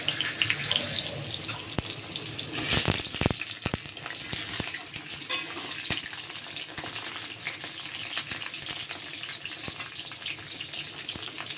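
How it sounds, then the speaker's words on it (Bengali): Steady crackling sizzle of potatoes frying in hot oil in a wok, with a brief louder clatter early on and continuous kitchen noise throughout. "আলুটা ভেজে নেব"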